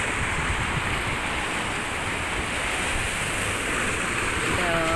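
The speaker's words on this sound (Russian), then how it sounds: "сегодня море волнуется" Rough sea waves roar as a loud, steady wash of surf close by, filling every moment without pause or any clear break between waves.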